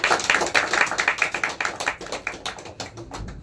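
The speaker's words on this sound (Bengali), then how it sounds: "সকলে হাততালি দাও, হাততালি দাও" An audience at a Naihati Rangasena poster unveiling clapping in a brisk, steady patter, many hands close by, continuing throughout.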